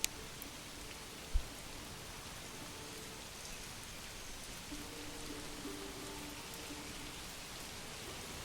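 Rain in the medieval village-building game Manor Lords falls as a soft, even, continuous hiss, faint and steady, with one small knock early on.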